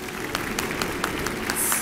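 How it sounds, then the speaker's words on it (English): An audience claps to welcome motivational speaker Vicki Hitzges, a brief burst of steady applause from a crowd with rapid, even claps and no talking. "please help me welcome and give a round of applause, several of them if you would,"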